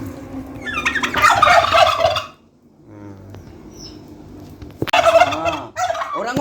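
A bronze turkey gobbling close by, with rapid rattling gobbles in two bursts separated by a quieter stretch and a few people talking in the background.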